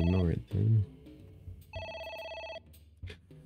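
In the video game AI: The Somnium Files, a telephone rings with a bright electronic tone, mid-clip, alongside a bell-like chime, while a voice speaks over the opening and at the end.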